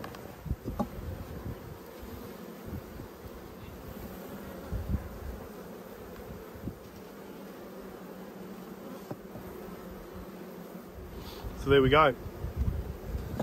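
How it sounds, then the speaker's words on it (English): Honey bees hum in a steady, faint drone around an opened hive in warm Australian weather, with a crowded colony. Someone speaks briefly and handling noises come and go. "There's massive amounts of bees,"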